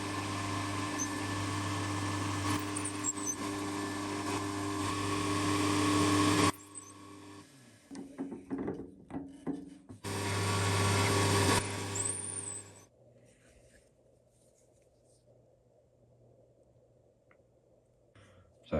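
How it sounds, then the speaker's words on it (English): A mini lathe spins while a smaller drill bit bores right through a metal workpiece, a loud steady whine in two bursts separated by a short pause with handling clatter, then a quieter motor hum. "Then I can come in with the smaller drill bit and go right the way through"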